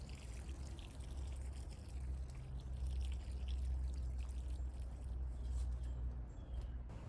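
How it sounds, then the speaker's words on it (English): Water poured over freshly sown sunflower seeds in garden soil, a steady soft trickle and splash running continuously at moderate level with a low background rumble. "I watered my seeds in thoroughly."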